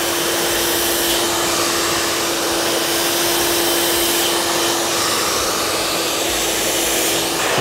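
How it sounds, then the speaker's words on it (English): A hair dryer blows steadily while hair on a short cut is dried forward from the crown, a loud, constant, close whooshing drone with a steady motor whine and no break. "So all we're doing now is literally blow drying the hair all the way forward"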